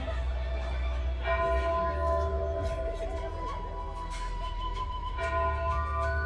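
Resonant temple prayer bell tones ring out and hang in the air over a low, steady hum, with several strikes overlapping, on Enoshima island, Japan, at night.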